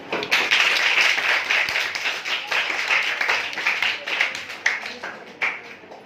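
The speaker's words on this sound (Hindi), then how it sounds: "तालियां दें।" An audience applauds, a steady burst of many hands clapping that fills the room, thinning into scattered claps toward the end.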